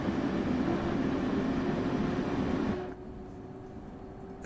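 Heavy ALP-46 train cars rolling on the Northeast Corridor in Train Sim World 3, a dense low rumbling drone that drops to a quieter hum partway through.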